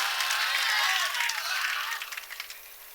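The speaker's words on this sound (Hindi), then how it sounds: "एक बार जोरदार तालियां बजा के मुझे इजाजत दें" Audience applause at the Kajrakol Mushaira 2018 poetry recital: a soft, hissing wash of many hands clapping, steady at first and then thinning and fading over about three seconds.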